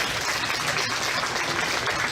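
Audience at a county fair beef showmanship show clapping for the exhibitors, a steady, full round of applause from a crowd, sustained evenly for the whole stretch.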